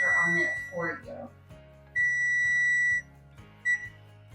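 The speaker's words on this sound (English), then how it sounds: "sorry, that's my timer." A kitchen timer beeps during oven-baked chicken thigh cooking. Steady electronic beep tones sound in bursts, first under a voice speaking and then as a longer tone and a short final beep over a low electrical hum.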